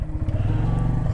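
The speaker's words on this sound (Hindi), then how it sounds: "यहीं पर खड़ा कर देते हैं इस बाइक को" A motorcycle engine chugs in a close, loud, steady low rumble as the bike idles before being parked on an off-road mountain route in Chitral.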